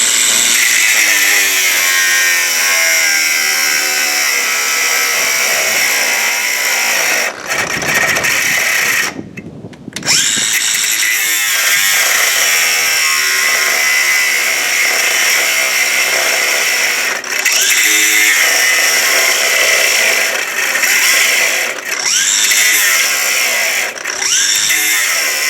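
A cordless power tool works on the axle of a 6x12 Carry On 3500 lb cargo trailer, whining and rattling loudly and continuously for about 25 seconds, with one short pause before it starts up again.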